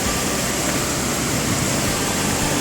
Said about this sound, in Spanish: Y este es el otro lado de la cascada.